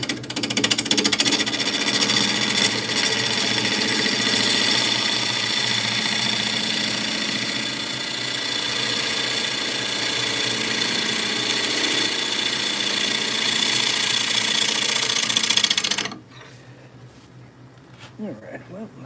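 Wood lathe spinning while a gouge turns small wooden squirrel figures in a woodworking shop, a loud continuous whirring hum with rough scraping texture that stops abruptly near the end, leaving quiet room noise.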